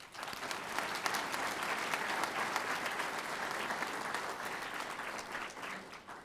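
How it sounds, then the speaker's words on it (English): Steady applause from a large crowd at a graduation ceremony, a dense wash of clapping that holds evenly throughout and is heard from some distance. "Can we give them a round of applause?"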